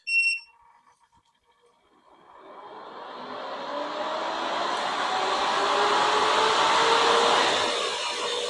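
A MelodySusie SProF dust collector switched on at its high setting, rising after a short beep into a steady, loud whooshing fan roar that holds for several seconds with no talk.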